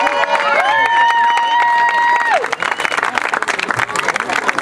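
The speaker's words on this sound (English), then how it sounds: "One more time, big applause for the entertainment." Crowd applause and cheering at a birthday block party bursts in after a sustained tonal musical passage fades, dense broadband clapping filling the remainder with a busy outdoor crowd murmur.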